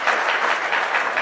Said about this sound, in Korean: 자매 격려 박수